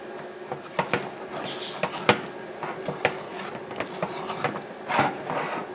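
A playdough mixture is stirred in a pan over medium heat, making scattered wooden taps and scrapes against the pan in an uneven rhythm, fairly quiet and close.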